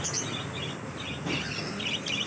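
Cockatiels and other caged birds chirping in a pet shop in Kota, Rajasthan, a dense, fairly loud stream of overlapping high chirps and tweets over steady room noise, with no speech.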